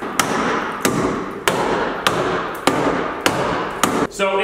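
Hammer blows on the wheel area of a mini-van being fitted with 31-inch mud tires, about eight loud, evenly spaced metallic strikes close to the microphone, each followed by ringing, with no talk.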